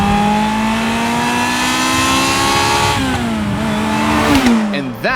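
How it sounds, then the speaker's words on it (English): A Ferrari F355 engine revs hard and close, pitch climbing steadily, dropping at a gear change, then climbing again before easing off sharply at the end. "that is the Ferrari F355"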